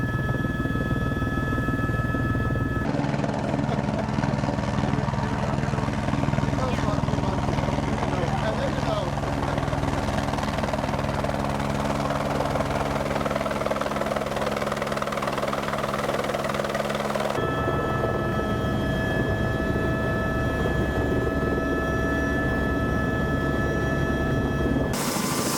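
A helicopter at the Fox Glacier helipad on New Zealand's South Island runs with a loud, steady rotor and engine drone that fills the whole stretch, its tone shifting partway through, close and constant.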